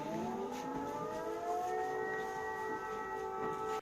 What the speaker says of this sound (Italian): La gioia dell'arrivo e della consegna dei beni è stata però interrotta dal suono delle sirene antiaeree.